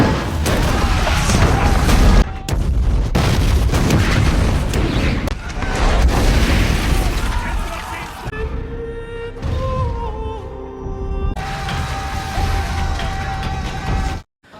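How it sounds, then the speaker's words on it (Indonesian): Loud cannon blasts boom repeatedly amid a chaotic battle roar as fire cannons batter a fortress wall, with a brief pause and a voice calling out before more heavy explosions. "ternyata itu adalah meriam api yang ditembakkan pasukan muslim Saladin untuk merobohkan"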